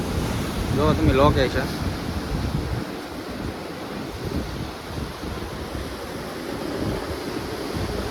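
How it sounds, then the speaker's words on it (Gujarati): Sea waves wash steadily onto the beach at Vijali Baru in Mahuva, Gujarat, with a continuous surf roar and wind rumbling across the microphone. A person speaks briefly near the start. "ના અહીંયા સારો એવો દરિયા કિનારો પણ છે"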